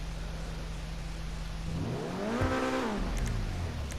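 Engine of an Invetero Coquette D10 sports car in GTA Online, idling steadily, then revving up and back down in one smooth rising-and-falling sweep, moderately loud with no talk.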